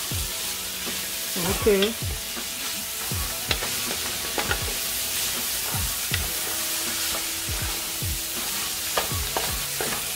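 Chicken chow mein stir-fried on a high stove, a steady loud sizzle with repeated scraping strokes of the utensil through the pan; a voice briefly speaks.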